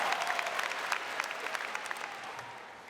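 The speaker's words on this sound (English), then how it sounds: "You really need to clap hard" A commencement audience at a university ceremony claps steadily, a dense, moderately distant wash of many hands that sustains for a few seconds and gradually thins out.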